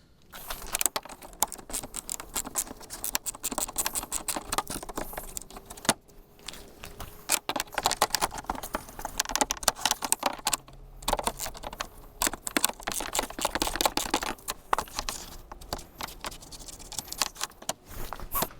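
Close, busy metallic clicking and ratcheting as 10mm bolts are worked out of a car fender, with clinks of the tool and small parts in irregular bursts and brief pauses, no talking.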